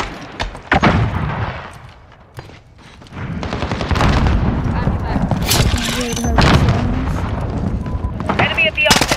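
Bursts of automatic gunfire from a first-person shooter video game, with rapid repeated shots and booming impacts at a loud, close level, overlapping game effects and background noise.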